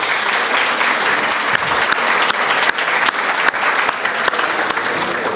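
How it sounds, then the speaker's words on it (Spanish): Loud, sustained applause from an audience, a dense wash of clapping that continues steadily throughout. "Con el aplauso de ustedes"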